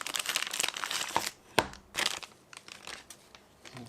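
Close, crisp crinkling of the plastic bag around a newly unboxed Civivi Qubit knife, irregular rustles and sharp crackles coming in bursts with brief quieter gaps.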